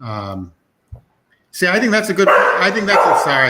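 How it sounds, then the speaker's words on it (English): A pet dog barks near someone talking indoors: a short bark, a pause, then a run of loud, overlapping yips and barks mixed with his speech. "that's my dog."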